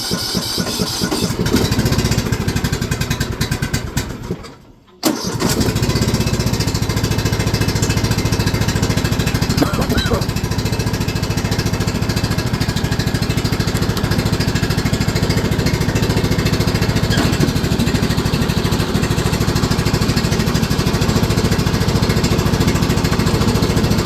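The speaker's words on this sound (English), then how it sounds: "You shouldn't start a motor cold at full throttle." A Spartan lawn mower engine roars at full throttle, loud and steady with a rough mechanical clatter, broken by one brief cutout near the start before resuming at constant high revs.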